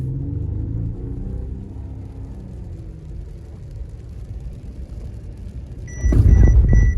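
2021 Mercedes S-Class rolling down a city street at 50 kph, a low steady cabin rumble of tyres and road noise heard from inside, swelling into a heavier thump near the end with a short, bright electronic warning chime.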